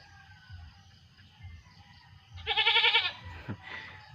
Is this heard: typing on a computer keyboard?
no